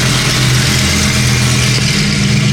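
A loud BMW F80 engine rumbles close by with a steady, throaty drone that holds without pause, with no talk over it.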